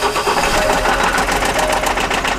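A failing Mercedes-AMG engine knocks from neglected engine oil, a dense steady clatter with rapid metallic ticking over a low drone, loud and close throughout with no talk.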